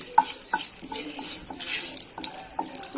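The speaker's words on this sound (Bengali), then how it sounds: "তেল খুব ভালো গরম হতেই দিয়ে দেবো 2টো শুকনো লঙ্কা চেরা" Two split dried red chillies hit very hot oil in a pan, giving a sharp crackling sizzle with quick pops and stirring scrapes over several seconds.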